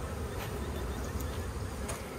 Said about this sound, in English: There's bees kind of flying around out here trying to figure it out.